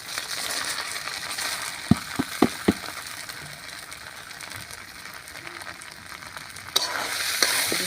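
Washed rice is fried with ginger paste in a pan for prawn pulao, giving a steady sizzle with several sharp scrapes and clicks of the stirring spoon against the pan, close by and without talking.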